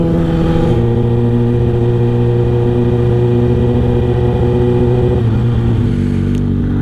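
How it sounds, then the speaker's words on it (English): Downtown street traffic from the seat of a Kawasaki ZX6R 636 motorcycle: the bike's steady, loud engine hum with shifting tones as it idles and moves through traffic, plus wind noise, with no talking. "Yay, traffic."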